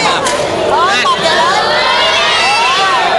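A crowd of supporters cheers and shouts, with high-pitched excited voices rising and falling close by in a dense, lively roar.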